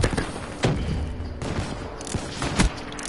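Rapid video-game gunfire from Call of Duty Black Ops 3 multiplayer, loud repeated shots and bursts with a few sharper booms, continuing throughout.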